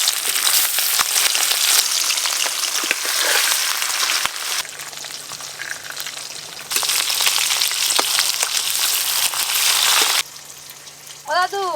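Pieces of rohu fish fry in hot oil at a wedding-style kitchen, a steady loud sizzle that fills the whole stretch, with voices talking over it now and then.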